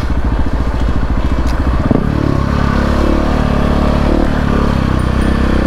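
A motorcycle engine runs steadily while riding, a low throbbing pulse that shifts pitch partway through and then settles into a rougher, sustained drone close to the rider.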